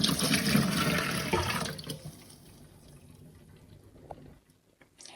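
Rinse water from cleaning with an oxygen-based cleaner pours and sloshes loudly, then fades into quieter trickles and small splashes.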